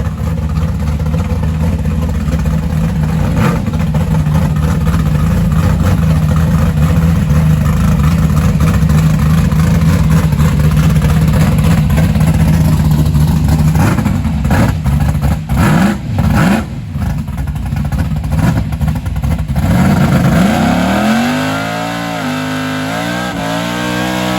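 A drag race Nova with a rusty body, tuned all motor, revs loud and near at George Ray's Drag Strip, a dense sustained engine roar with swelling throttle blips that drops away to a lower idle near the end.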